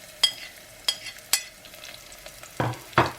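Chopped garlic and green chillies frying in a pan, with a steady sizzle broken by several sharp stirring scrapes and clanks, close and clear with no talking.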